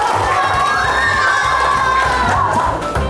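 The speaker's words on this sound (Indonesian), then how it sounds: "Tepuk tangan dulu dong." A crowd of schoolchildren cheers and shouts together at a free school meal trial, a loud continuous chorus of high voices with a rising whoop, close and filling the space; clapping is not clearly distinct.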